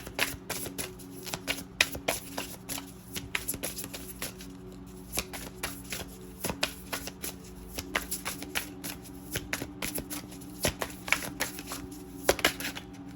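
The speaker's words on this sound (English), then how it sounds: "let's get a good shuffle" A deck of cards being shuffled by hand up close, a long run of quick crisp riffles and flicks in an uneven rhythm with a faint room hum beneath.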